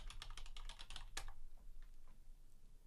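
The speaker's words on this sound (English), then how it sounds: "I'll type in one of my domain names here." A domain name is typed on a computer keyboard: a quick burst of close, crisp keystrokes ending in a firmer key press, then a few softer taps against quiet room tone.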